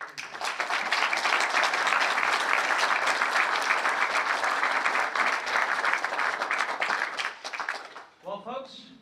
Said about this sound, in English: give please a big round of applause for our presenters